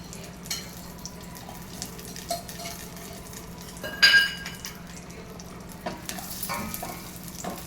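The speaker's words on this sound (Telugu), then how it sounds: "ఇందులో నెయ్యి వేసుకొని తర్వాత మన డ్రై ఫ్రూట్స్ని రోస్ట్ చేసుకోవాలి" Dry fruits roast in ghee in a pot for semiya payasam, giving a soft, steady sizzle with stirring scrapes and a brief metallic clink partway through, with no talking.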